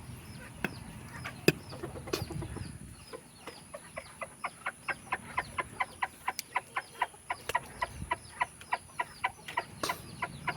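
Gamebird roosters and hens cluck in a coop, starting with scattered calls and rustling, then a rapid, regular series of sharp clucks from one bird at close range.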